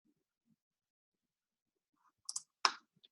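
Two or three sharp, close computer mouse clicks in quick succession, with near silence before them and no talking.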